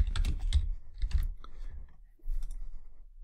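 Quick bursts of keystrokes clatter on a computer keyboard, close and clear, with short pauses between the runs of typing.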